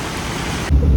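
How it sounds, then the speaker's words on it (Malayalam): Heavy monsoon rain pours down hard during flooding in Mundakayam, a loud, unbroken roar of rainfall that grows deeper and heavier near the end of the brief stretch. "ഈ മഴ ശക്തമായിട്ട് പെയ്യുന്നു"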